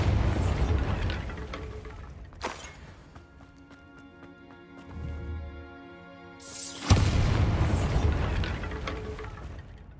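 A Bombarda blasting spell goes off in Hogwarts Legacy: two loud, broadband bursts with a long rumbling tail and noisy clatter, the second blast landing near the end after a quieter stretch of tonal game ambience.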